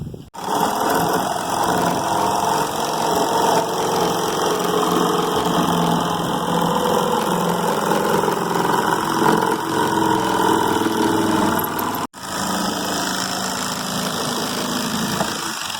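A power tool cuts a hatch hole through the deck of a Perception kayak, making a loud, steady mechanical drone for about twelve seconds. It cuts out briefly, then the same continuous noise resumes with no talking.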